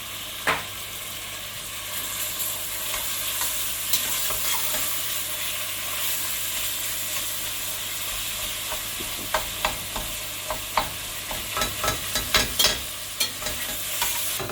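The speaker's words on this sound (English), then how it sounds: "While the mince is frying, time to get some spices." Minced meat frying in a pot for a single-pot curry, a continuous sizzle with a spoon stirring and scraping, the scrapes growing sharper and more frequent toward the end; no one speaks.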